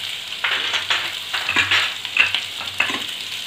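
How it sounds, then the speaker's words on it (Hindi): Spoon stirring turmeric, chili and chat masala into potatoes for dum aloo, with rhythmic scraping strokes over a steady frying sizzle, close and fairly loud, with no talking. "और इसको हम चलाएंगे जिससे ये मसाले आलूओं में अच्छी तरह से मिक्स हो जाए"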